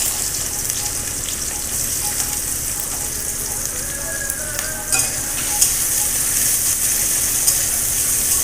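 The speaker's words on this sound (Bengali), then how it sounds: "পেঁয়াজটাকে লাল লাল করে ভেজে নেবো" Onions frying in oil with bay leaf and cumin, a dense, steady crackling sizzle heard close and loud throughout, with occasional faint clinks and stirring sounds.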